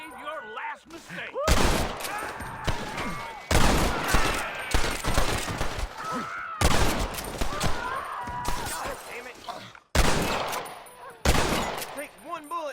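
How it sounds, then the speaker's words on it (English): Repeated bursts of gunfire from a Red Dead Redemption shootout crack out in loud clusters with short gaps between volleys. "I'm gonna shoot a bunch just in case!"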